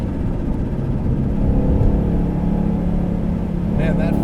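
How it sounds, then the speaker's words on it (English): A supercharged 2012 Mustang GT engine idles and revs with a rough, rumbling flutter, close by, while people talk over it. "that fluttering noise is pretty addictive"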